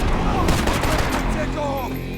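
Dense burst of gunfire from the Max Payne 3 video game, overlapping shots in a rapid fusillade with machine-gun fire, loud and continuous across the whole moment with a voice shouting beneath.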